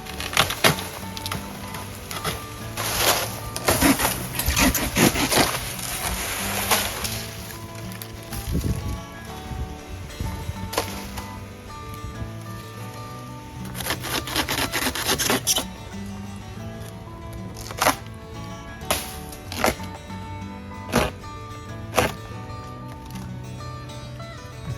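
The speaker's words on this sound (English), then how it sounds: "So Ruben prefers to use a handsaw rather than a chainsaw" A handsaw cuts through palm tree wood during palm pruning in the Algarve, with bursts of rough rasping strokes in irregular runs, then scattered sharp scrapes and creaks, fairly close with outdoor background and no talking.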